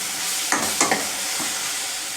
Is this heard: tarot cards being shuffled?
no